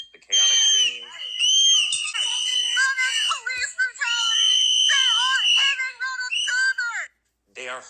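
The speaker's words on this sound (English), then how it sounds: "Notice the whistles, the chaotic scene." At a chaotic protest, shrill whistles blow almost continuously, overlapping and wavering, with shouts and screams mixed in, loud and close until a brief pause near the end.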